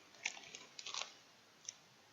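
Someone chews a Pepero white cookie stick, a crunchy Korean snack coated in white chocolate, up close and quiet, with a few crisp bites and crunches followed by softer chewing.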